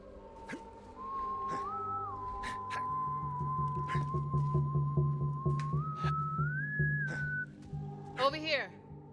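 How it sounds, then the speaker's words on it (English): A person whistles a slow, wandering melody in a Western-style video game, held notes that rise and fall over a low steady hum and faint background ambience, ending with a short sweeping sound. "Someone was whistling."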